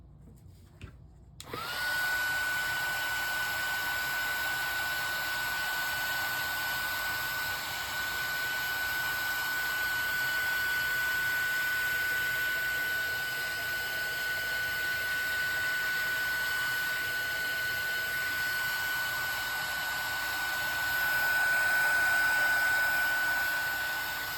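A heat gun melts embossing powder over wet ink, switching on after a brief pause and then blowing with a steady, loud, continuous whir and hiss for over twenty seconds, with no talk.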